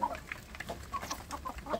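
Free-range village chicks clucking in a run of short, chirpy calls scattered close by, with no voices over them.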